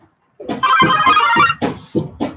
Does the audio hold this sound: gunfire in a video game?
no